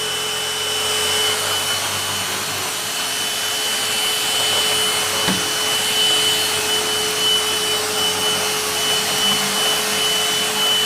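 A MooSoo 2 in 1 cordless stick vacuum runs steadily over a floor, a loud continuous motor whine with a high tonal hum and a brief bump partway through.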